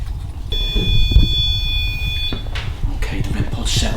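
A REM pod paranormal detector beeping during setup in a reputedly haunted house, a steady high electronic tone for about two seconds that then cuts out, with background movement and noise.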